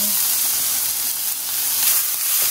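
Garlic, ginger and onion sizzle steadily in a pan coated with toasted sesame oil over medium heat, a continuous close, bright frying hiss with no talking.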